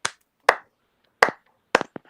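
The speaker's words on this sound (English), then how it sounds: "hand claps sort of sound like this" Dry hand claps with no reverb, five sharp isolated claps from one person, close and loud, spaced unevenly with silent gaps between them.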